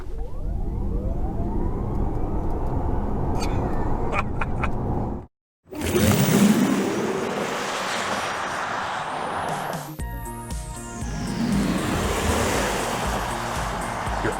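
A 2021 Porsche Taycan Turbo electric car with 670 horsepower and all-wheel drive launches hard, a loud rising electric whine and rushing road and wind noise, broken by a brief silent gap, then a sweeping pitch rise.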